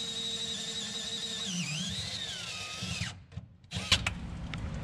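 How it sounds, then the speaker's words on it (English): A power drill bores through thick metal during coil spring and control arm work on a 1966 Ford Mustang. A steady motor whine dips and bends in pitch, then cuts out, followed by a short clatter. "That's pretty thick when you drill through there."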